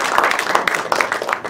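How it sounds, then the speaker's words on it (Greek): An audience at a book presentation in Veroia applauds, a dense run of overlapping hand claps at close range lasting the whole moment. "Λοιπόν, να χειροκροτήσουμε."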